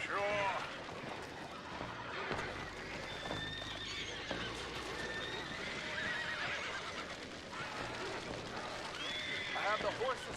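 Horses in the video game Red Dead Redemption 2: repeated whinnies and neighs rise over galloping hoofbeats and clip-clop, with commotion and voices talking underneath.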